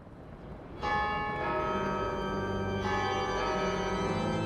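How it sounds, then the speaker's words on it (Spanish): Church bells toll steadily on a Sunday morning at a cathedral in northern Mexico, a loud, ringing peal with rich overlapping overtones that begins abruptly and swells with a second strike partway through, sustained without any voices. "Las campanadas, incansables, anuncian un evento importante esa mañana de domingo en la Catedral de Nuestra Señora de Guadalupe"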